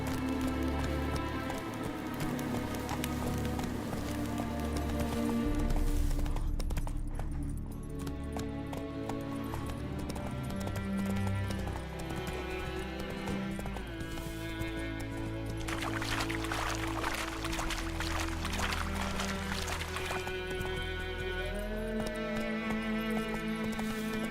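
Roach the horse gallops in The Witcher 3, with a steady run of clip-clopping hooves set amid game music and ambient rain-like patter, continuous and moderately loud throughout.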